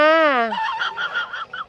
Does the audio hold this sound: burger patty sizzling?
no